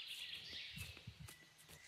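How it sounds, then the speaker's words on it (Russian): Faint birdsong drifts from a distance, thin high chirps and trills under a soft outdoor hiss with a few quiet rustles. "Слышите, как птички поют?"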